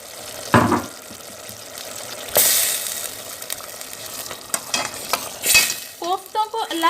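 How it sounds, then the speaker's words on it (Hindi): Koftas drop into hot masala for kofta biryani, setting off a sizzle and fry crackle, followed by bursts of spoon stirring and scraping in the pan. "अब हम कोफ्ते डाल देंगे इसमें।"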